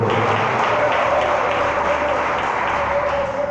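A church congregation applauding for Jesus during a Portuguese-language service, continuous clapping blended with a steady sustained tone from sound equipment or music, evenly loud throughout.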